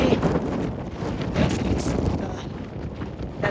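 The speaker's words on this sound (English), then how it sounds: "Oh man, it's windy today." Wind gusting across an outdoor construction site, a steady loud rush of buffeting noise that surges and eases over a few seconds, with no other clear sounds.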